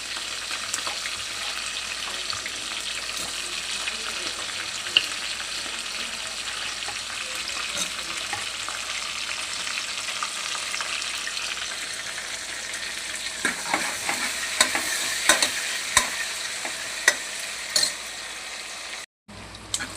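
Onion pieces frying in hot oil for a tempering, a steady close sizzle throughout with scattered stirring clinks in the latter half and no talk.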